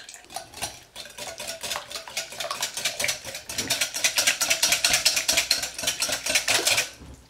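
Cake batter of eggs, oil and milk being hand-mixed in a bowl, a fast steady clatter of a utensil scraping and tapping the bowl, growing busier toward the end.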